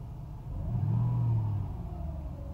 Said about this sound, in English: Acceleration is fine. RPM range is perfect.